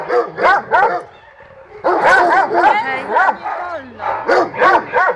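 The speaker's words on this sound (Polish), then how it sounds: "a tutaj psy szczekają" Several dogs bark and yip loudly at an animal shelter in repeated bursts, with whimpering in the pauses, close and dominant throughout.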